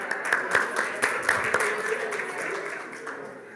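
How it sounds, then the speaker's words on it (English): Summit participants in an interactive session give a round of applause, with sharp claps at first settling into softer, thinning clapping, and voices murmuring underneath. "Round of applause for doing the first exercise."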